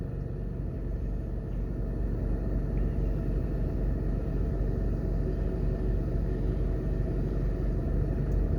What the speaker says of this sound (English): so you can see the amount of traffic